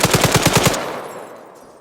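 A quick burst of about seven gunshots from the video game ArmA 3, loud and evenly spaced, then a long echoing tail that fades away.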